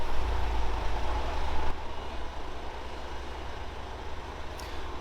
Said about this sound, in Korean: 지금 한쪽 바퀴가 이렇게 돌아가요.